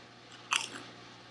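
A dill pickle gets one crisp, close bite followed by a short crunch that fades into quiet.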